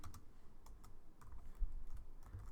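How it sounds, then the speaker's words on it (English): Faint keyboard typing comes through as a handful of soft, close clicks in an uneven rhythm over a low background hum, with no speech. "My typing is still bad."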